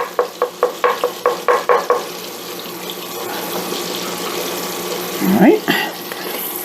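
A roux of flour stirred in a pan on the stove, a rapid run of rhythmic scraping strokes up close, then a quieter sizzling bed with a brief spoken remark.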